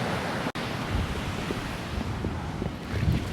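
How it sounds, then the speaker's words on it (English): Steady broadband surf and breeze on a Puerto Rico beach, waves washing continuously with wind rumbling against the microphone, one brief dropout near the start. "I got the beach, I got water, and I got the breeze just kind of staying out of my business"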